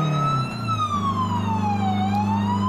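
A loud ambulance siren wails steadily nearby, its pitch slowly sliding down and back up over a low engine drone, with no talking.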